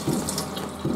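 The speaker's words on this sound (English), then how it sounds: "you'll have to forgive my sink. It's making a crazy noise." A kitchen sink faucet runs in a steady, close stream of water, a short hissing splash with faint gurgles as the sink makes an odd noise.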